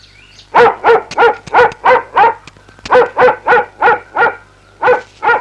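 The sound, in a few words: dog barking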